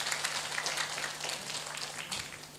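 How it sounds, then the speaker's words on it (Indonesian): Fairly faint applause from an audience at an integrity zone commitment ceremony, clapping for the UPTD staff, with a steady spread of claps that thins slightly toward the end. "Tepuk tangan untuk UPTD"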